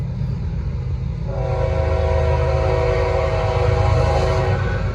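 A Norfolk Southern freight train led by a CP locomotive rolls past with a steady rumble, then a loud, sustained multi-tone horn blasts from about a second in and holds to the end.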